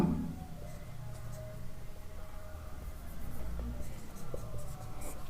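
Someone writes out an equation during a Class 10 maths lesson. Continuous soft scratching strokes run steadily throughout against a faint background hum.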